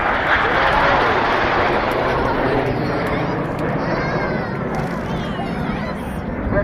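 RAF Red Arrows aerobatic jets roar overhead at an airshow, a broad, continuous rushing engine noise that slowly fades, with crowd noise and a commentator's voice in the background.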